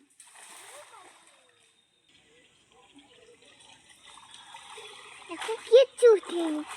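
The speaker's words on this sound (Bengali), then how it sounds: "আর এক কেপ জাল ফলার জন্য নেমে গেছে এখানে" A fishing net is cast into water with a few sharp splashes near the end, preceded by faint background noise and distant voices.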